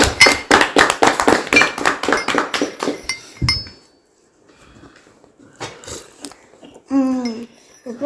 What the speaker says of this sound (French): Applaudissons pour Reine